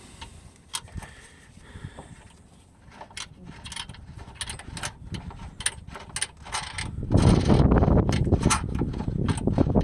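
Ratcheting wrench working loose the bolts on a gearbox mount of a Fiat Grande Punto 1.4, a run of quick clicking ratchet strokes with metallic taps, close and fairly loud, growing heavier and denser toward the end.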